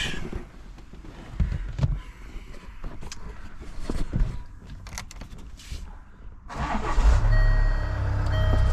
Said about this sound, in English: So car starts.